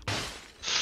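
Glass shatters in the video game PUBG, a sudden loud burst of breaking panes with a bright crash and scattering shards that flares again near the end.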